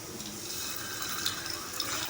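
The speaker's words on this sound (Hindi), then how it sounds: "इसके अंदर हम हल्का सा ऑयल डाल रहे हैं। हम एग को फ्राई करेंगे। एक एक अंडा डाल रही हूँ मैं" Eggs fry one at a time in a little oil in a nonstick pan, making a continuous soft, watery crackle and hiss with small pops.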